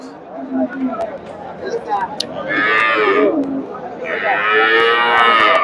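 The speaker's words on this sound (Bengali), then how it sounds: "দেখার মতো একটা গাভী বাচ্চা দর্শক" Two long, loud moos from a heifer calf at the Chandaikona cattle market, close by, rising over a background of murmuring voices and farm noise.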